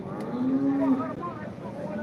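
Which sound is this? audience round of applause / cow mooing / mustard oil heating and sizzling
cow mooing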